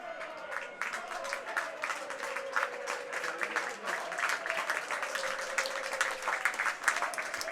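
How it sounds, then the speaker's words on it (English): Sustained applause from a large rugby league stadium crowd, a dense rattle of many hands clapping at a distance, with a faint tonal hum running underneath. "The round of applause below us is for Brett Bailey"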